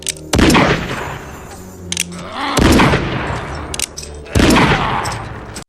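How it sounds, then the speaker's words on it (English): Gunshots in Curly Bill's shooting spree in a film, three loud booming blasts with echoing tails spaced a couple of seconds apart, plus smaller sharp cracks between them, no voices. "He shoots at anything and everything which came to his sight"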